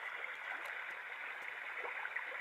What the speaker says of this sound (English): So this is the brook.